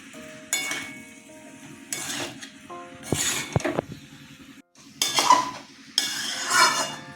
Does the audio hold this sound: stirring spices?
yes